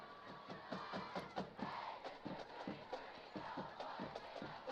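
A crowd at a Mustangs versus Falcons football game is picked up on a field microphone, a fairly faint, continuous roar of voices with rhythmic clapping or stomping pulses.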